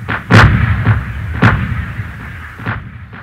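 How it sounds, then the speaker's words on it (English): World War I artillery guns fire in a recurring barrage, with heavy booming shots landing at irregular intervals, roughly three strong blasts and fainter thuds between them, each rolling off into a rumbling echo. "For 7 days and seven nights, the guns fired."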